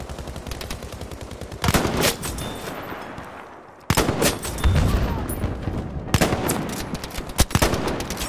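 Gunfire in a Battlefield 5 match: rapid automatic bursts and single shots crackling loudly in several volleys, with short pauses between them.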